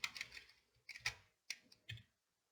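Computer keyboard keys pressed in a few separate sharp clicks and taps, fairly quiet and close, with short pauses between the strokes and no talking.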